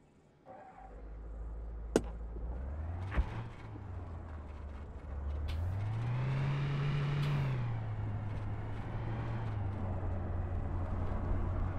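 A delivery truck in ArmA 3 starts up and drives, its engine droning low and rising in pitch as it accelerates, with a couple of sharp clicks early on and no voices.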